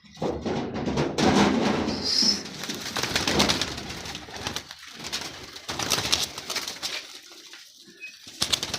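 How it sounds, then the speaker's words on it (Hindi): Pigeons coo on a rooftop loft, with repeated soft throaty calls and brief wing flaps over light outdoor background noise, close and fairly loud, with no talking. "बहुत ही लाजवाब कबूतर भी है इनके।"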